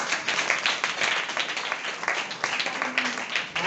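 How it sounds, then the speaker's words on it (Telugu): Applause from the audience at a women's day church meeting, a steady crowd clapping that fills the whole moment at moderate distance, with no talk over it. "క్లాప్స్ కొట్టండి"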